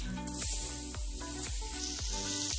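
Steady sizzling and crackling of mango pieces frying in hot oil, with a faint rhythmic scraping or stirring repeating about every half second.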